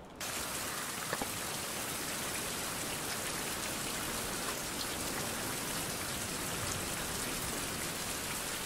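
Steady rain in a survival crafting video game, a dense, even hiss of falling drops that holds unbroken throughout with no voices.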